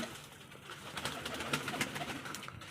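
Soft, low cooing of several pigeons repeats close by, rolling and overlapping in a gentle murmur with faint background noise.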